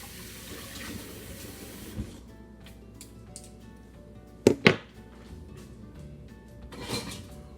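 Food is rinsed under a running kitchen tap while salmon is prepared, a soft hiss of flowing water followed by quieter handling noises, a couple of sharp close knocks and a final splash.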